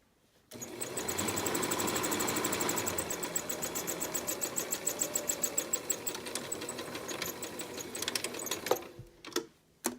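Sewing machine stitching through sweater fabric, a loud continuous fast mechanical whir for several seconds that slows into separate clattering stitches before stopping, with no talk.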